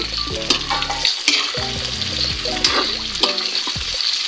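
Tofu frying in a pan with pork, a strong close sizzle broken by stirring clatter and bubbling, loud and busy with no voices.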